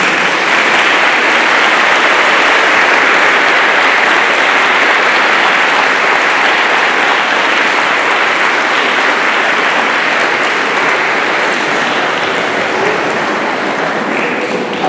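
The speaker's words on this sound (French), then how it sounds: "Et je vous demande de les applaudir." At a Sunday first communion Mass, the church congregation claps steadily and loudly for the children. The dense applause carries on unbroken for the whole stretch, with no voices above it.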